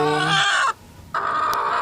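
A brooding native hen sitting on about ten eggs gives two drawn-out, nasal clucking calls close by, separated by a short pause.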